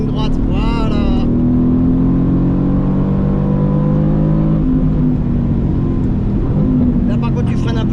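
A Mercedes-AMG GT R on a race track holds a steady, loud engine drone with slowly shifting pitch throughout, easing slightly midway, while a coach talks over it.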